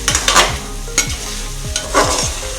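Flour-coated meal maker soya chunks fry in a pan, a sizzling bed punctuated by several loud, close scraping stirs at an uneven rhythm, with no talking.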